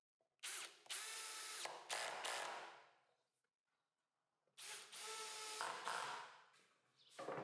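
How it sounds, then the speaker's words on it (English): A power drill bores new holes in a profile for a table saw sliding carriage, two bursts of high-pitched whirring lasting a few seconds each, separated by a quiet pause, close and clear. "I had to drill some new holes in the profile"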